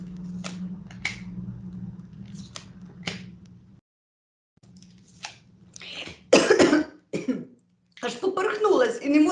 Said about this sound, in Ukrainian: Від радості поперхнулась